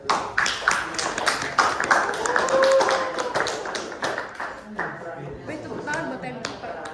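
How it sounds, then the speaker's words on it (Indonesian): Audience at a presidential debate applauding, a few seconds of scattered hand clapping that swells and then thins out, with talk mixed in underneath. "Marilah kita berikan tepuk tangan"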